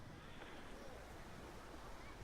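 Atlantic Ocean surf washing in at a pier in Lauderdale-by-the-Sea, Florida, a steady broadband roar of waves with wind buffeting the microphone throughout, no distinct breaks.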